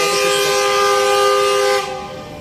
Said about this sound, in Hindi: G40 का हॉर्न हो गया।